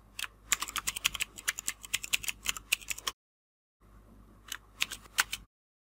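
Rapid keystrokes on a computer keyboard as code is typed, close and crisp in an uneven burst, a brief silent pause, then a shorter flurry of clicks.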